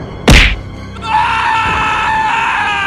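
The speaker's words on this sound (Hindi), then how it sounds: "बुल्ली को भी डंडे से पीटने लगी। बुल्ली के मुंह से चीख निकल गई।" A sharp whack of a stick strike, then after a brief pause a loud, sustained, wavering scream of pain that continues to the end.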